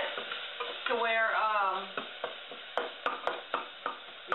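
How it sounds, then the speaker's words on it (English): Garlic searing with onions in MCT oil in a pan, a faint sizzle under a brief tonal scrape, followed by several sharp taps and stirring strokes at a steady rhythm, close by with no talking. "You just want to sear it in the onions and the MCT oil."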